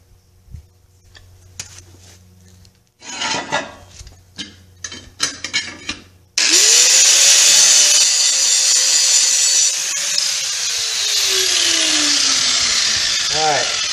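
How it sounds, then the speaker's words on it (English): A grinder strips paint off metal before welding. It starts with a few short bursts, then runs loud and continuous for several seconds before its whine winds down. "I always like to just clean them off with a grinder quick"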